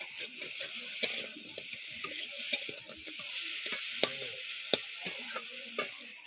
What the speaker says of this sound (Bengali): তার মানে পারফেক্ট মশলা কষা হয়ে গেছে।